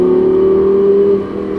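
Audi R8 V10 pulling hard on a race track, a loud, close, steady engine tone rising slightly before easing off near the end.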